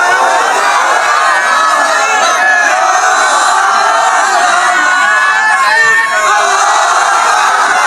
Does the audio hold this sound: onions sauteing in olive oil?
no